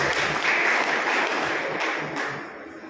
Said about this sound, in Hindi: उन सब के लिए एक बार तालियां बजाकर छोड़ो